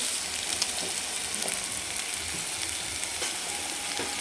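Cabbage vegetable dish frying in a pan with freshly added coriander, a soft continuous sizzle with a few light stirring scrapes, fairly quiet and without talk.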